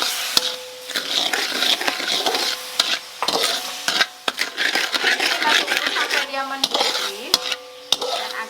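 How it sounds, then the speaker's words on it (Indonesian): Sugar and water syrup boiling and thickening in a wok for getas cakes, giving a steady close bubbling sizzle with scattered clinks and scrapes of a utensil against the pan. "Mendidih dan agak mengental."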